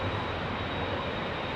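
A jet airliner takes off from runway 27R at Heathrow Airport, its engines a steady, loud, broadband roar that holds constant without a break.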